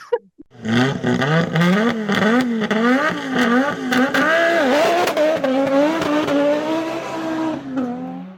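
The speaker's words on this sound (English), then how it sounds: "That 5-cylinder sound, though, that's what sells it, right?" An Audi RS3's five-cylinder engine revs hard again and again, its loud, close note climbing and falling in pitch over about eight seconds, with no voices.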